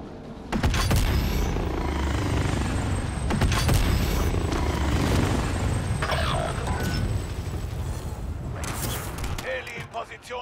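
A helicopter's thumping rotor and engine roar fill the scene amid gunfire, booms and mechanical clatter in Call of Duty: Warzone, with voices talking over it in German.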